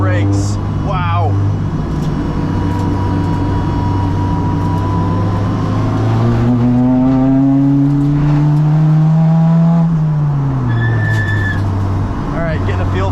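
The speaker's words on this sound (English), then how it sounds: "making sure we get these tires warmed up before we push the car too hard" A Honda Civic Si FE1 race car on Bridgestone Potenza RE-71RS tires drives a track from onboard, its engine droning loud and close, then revving higher through several gear changes over steady road roar, with a voice speaking intermittently.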